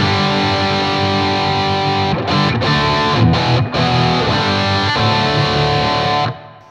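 An electric guitar is played through a compressed, overdriven Soldano 30 amp model in TONEX with a touch of reverb. Thick distorted chords ring out, separated by brief choked pauses, and the last chord is cut off abruptly. No one speaks.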